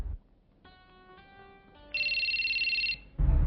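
Telephone ringing in a household drama scene: a synthetic ringtone of stacked steady tones, then a louder bright electronic trill for about a second, clear and close with no talk over it.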